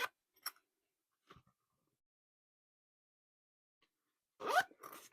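Zipper on a fabric tech pouch, a few short quick zips at the start, a gap of near silence, then a longer rasping pull near the end, close and quiet.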